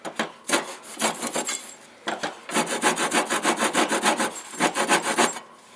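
The saw edge of a WJQ-308 Chinese military shovel cuts into hardwood in rapid rasping back-and-forth strokes, a first short burst, a brief pause, then a longer steady run of close, rhythmic sawing.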